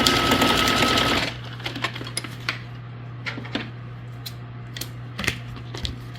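A sewing machine stitches through paper journal tags in a loud, fast, steady whir for about a second, then stops, leaving a low hum with scattered light clicks and paper handling.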